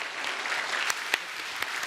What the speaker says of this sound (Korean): 힘찬 박수를 부탁드리겠습니다.